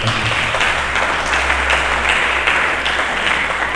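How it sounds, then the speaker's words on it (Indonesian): Congregation applauding in a church service, a steady dense wash of many hands clapping at once that holds at an even loudness throughout, with no voice over it. "Mari kita berikan tepuk tangan."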